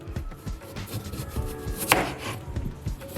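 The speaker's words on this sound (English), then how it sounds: "For my carrot, I'm going to cut it at an angle." A knife chops a dense carrot into thin angled slices on a board, a steady run of close, crisp cuts with one sharper knock in the middle, with no talking.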